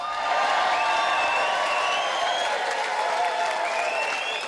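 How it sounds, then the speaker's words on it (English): A comedy show audience in Benidorm applauds and cheers loudly, steady dense clapping with scattered whoops sustained throughout. "it takes a louder fucking cheer from that"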